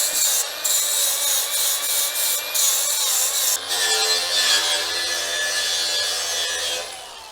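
Steady rough scraping and rasping against metal as chipped powder coating is knocked off a cheap trailer frame, continuous and close, with brief tool strokes and no voices.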